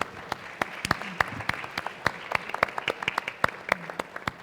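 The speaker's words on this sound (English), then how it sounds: "Can we have a round of applause for our panelists?" Scattered, distinct hand claps from a modest audience at a sustainability event in Penang, applauding the panelists in an irregular, fairly close patter that continues steadily throughout.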